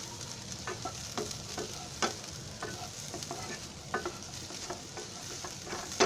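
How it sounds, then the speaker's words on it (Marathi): Chopped onion frying in a pan over high gas heat, a soft steady sizzle broken by regular scraping stirs of a spoon, quiet and close. "कांदा वगैरे आहे ना तो चांगला भाजला पाहिजे ना"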